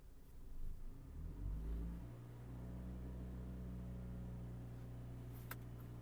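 A Fiat 500 Blackjack's engine revs and rumbles at a drag race, swelling then settling into a steady droning hum, moderately loud with no speech.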